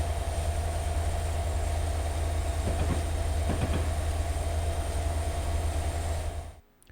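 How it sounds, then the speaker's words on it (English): A locomotive in the Great British Railway Journeys video game drives along with a steady loud engine drone and rumbling rail noise, a few clickety-clack wheel beats partway through, fading out abruptly at the end. "Congratulations, you are driving the locomotive."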